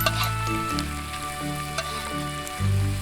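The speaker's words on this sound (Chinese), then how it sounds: "爆香洋葱末、青红辣椒，再把茶叶回锅翻炒" Chicken stir-fried in a wok with chopped onion, green and red chili peppers and tea leaves, giving a loud, steady sizzle with faint scraping stirs over a constant low hum.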